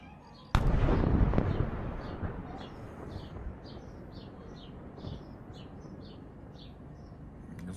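A big fireworks shell bursts loudly up close with a sharp crack, then crackles and rumbles away over several seconds, with faint chirps and smaller pops through the decay.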